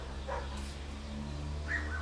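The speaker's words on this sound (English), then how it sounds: "Yeah, a lot of dog activity out here today." Dogs bark a couple of times outdoors, faint and distant, over a steady mechanical hum in a workshop with a Pratt & Whitney lathe.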